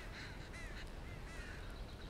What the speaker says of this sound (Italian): Solo gli uccelli.